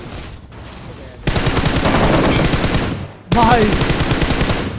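M762 rifle in a mobile battle royale game firing sustained automatic bursts at a buggy's tyre, loud rapid fire with a short gap before another burst, and a voice speaking briefly over it.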